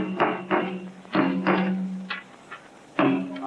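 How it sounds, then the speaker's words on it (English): Hammer blows drive a nail into a wall during a 1968 Beatles session, with about six irregular, fairly close knocks that each leave a short ringing tail over a noisy room. "try and hammer in a nail"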